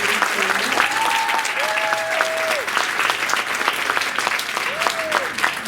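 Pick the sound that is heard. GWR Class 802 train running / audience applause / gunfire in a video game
audience applause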